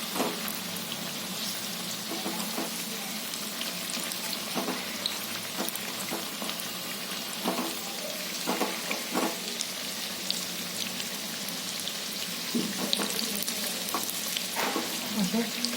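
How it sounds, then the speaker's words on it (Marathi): Green chili bhaji fry until crisp in hot oil, with a dense, steady sizzle and bubbling that continues throughout, along with scattered soft pops and occasional light stirring clicks nearby. "क्रिस्पी तळून घ्यायचं एकदम एकदम टेस्टी लागतं"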